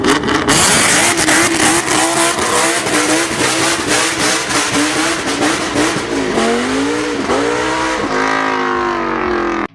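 A 2008 BMW M6 E63 in a Need for Speed game, its engine revving hard through repeated upshifts with rising and falling pitch and some tire squeal, loud and close throughout.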